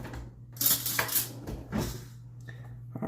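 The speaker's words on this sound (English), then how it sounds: "Let me get a spoon." A spoon taken from a drawer of cutlery in a home kitchen: a few bright metallic clinks and rattles of silverware, close by, separated by short pauses over a low steady hum.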